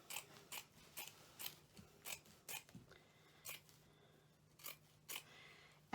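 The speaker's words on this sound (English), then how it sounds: "I'm just going to go ahead and open it up and cut along." Scissors snip through fabric while cutting out a Christmas placemat and runner, a steady run of about a dozen short, crisp cuts spaced roughly half a second apart, close and fairly quiet with no talk.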